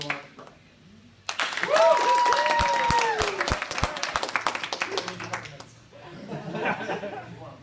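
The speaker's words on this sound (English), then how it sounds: "if you think that Isaac did a better interpretive dance, clap. Cheer, do whatever." Live audience clapping and cheering to vote for an interpretive dance performance, a loud burst of applause with whoops and laughter that swells, holds for several seconds, then fades into murmuring crowd chatter.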